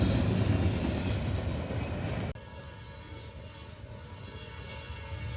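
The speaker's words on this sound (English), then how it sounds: "We got an eastbound here at Oak Harbor intermodal" A short, fast eastbound intermodal freight train rolls past at Oak Harbor, Ohio, a loud rushing rumble that drops abruptly partway through to a quieter steady rolling clatter with high metallic tones.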